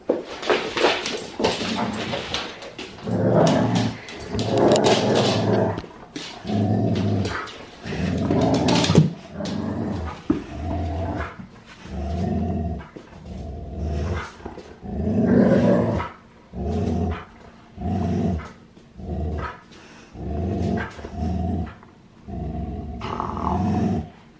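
Dogs growl in a long series of low, rumbling bursts, rhythmic and close, with short pauses between snarls and occasional rustling.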